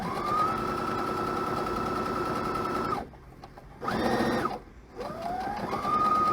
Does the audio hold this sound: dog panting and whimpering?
no